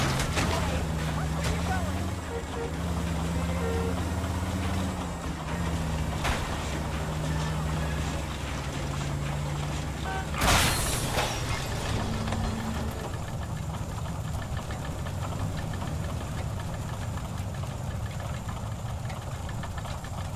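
A car engine roars steadily through a chase in the video game L.A. Noire, a continuous mid-pitched drone with a brief sharp burst midway, while voices speak over it.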